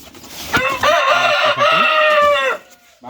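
Brahma chickens nearby, one rooster letting out a long, loud, full crow that rises and holds before dropping off, with softer clucks at the start and end.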